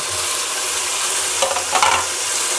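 Green chillies and tomato roasting in hot oil crackle in a close, continuous sizzle, with a brief louder burst of spitting near the end.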